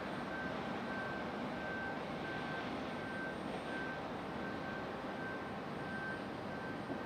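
An American Airlines airliner arriving at Raleigh-Durham International Airport gives a steady, broadband jet engine roar that holds at an even level throughout, heard from a distance with no talk over it.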